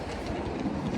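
A moving train gives a brief, close rumble of carriages with a faint clickety-clack of wheels on rails.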